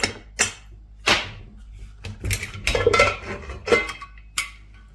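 A pressure cooker lid is opened while chickpea curry cooks, giving a series of sharp metallic clanks and clinks, close and loud, with short pauses between them.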